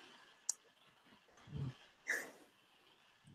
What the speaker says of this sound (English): that was a tiny bark